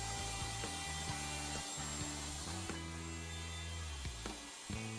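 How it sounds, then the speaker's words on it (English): A router cuts a wooden socket board held in a dovetail jig, moving in and out of the template openings. A steady, loud motor whine runs throughout, with scraping cutting noise that swells and dips as each socket is routed. "The socket board is routed by moving in and out of the template openings."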